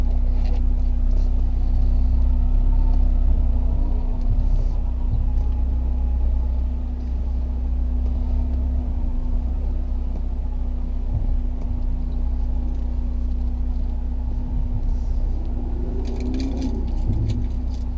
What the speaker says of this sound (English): so we're driving the 1990 944 S2.